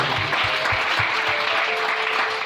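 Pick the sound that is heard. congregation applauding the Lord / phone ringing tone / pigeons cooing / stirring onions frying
congregation applauding the Lord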